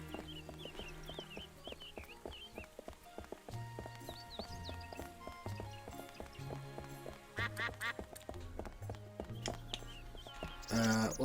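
Duck quacks repeatedly in the game Escape From Monkey Island, sitting in the mid-range over a steady bed of game music and clip-clopping footstep sounds, with a brighter burst near the end.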